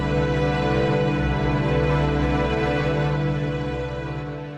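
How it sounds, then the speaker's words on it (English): NASA data sonification of an exploded star, a dense sustained drone of layered tones with slowly shifting pulses, steady and moderately loud, fading slightly at the end with no voices. "Here's what an exploded star actually sounds like."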